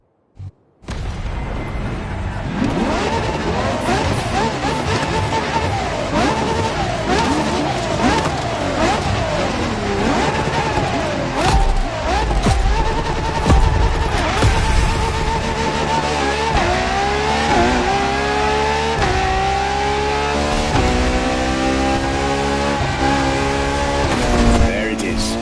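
LaFerrari supercar engine in The Crew Motorfest racing game, a loud sustained roar with rising and falling revs and gear-change sweeps, continuous throughout with no talk over it.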